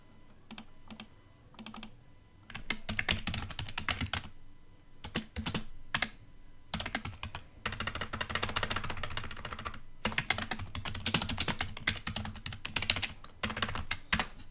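Fast, uneven typing on a computer keyboard, steady bursts of close clicking broken by brief pauses, with no voices.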